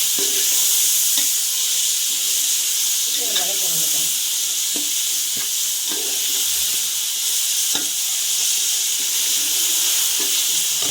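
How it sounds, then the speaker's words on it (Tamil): Tomato and green chillies sauté in a hot pan for a Sunday lunch dish, a steady close sizzle and hiss running throughout with occasional stirring scrapes and clinks. "மிளகா, பச்சை மிளகா போட்டு வதக்கு"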